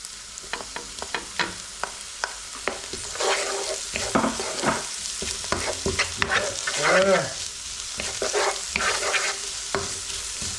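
Ginger, red chilli and garlic sizzle and fry in a pan for a Kerala fish curry, with a steady hiss broken by repeated scraping stirs and a louder burst of frying midway, no voices.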